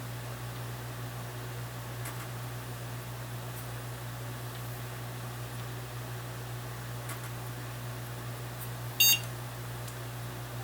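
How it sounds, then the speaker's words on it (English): A single short electronic computer motherboard POST beep sounds near the end, over a steady fan hum and hiss. "finally got a beep"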